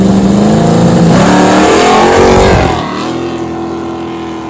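Drag car launching with a second kit engaged, the rear tires breaking traction and spinning. A loud, close roar of engine and tire spin surges, then drops to a lower steady drone partway through, with no talk.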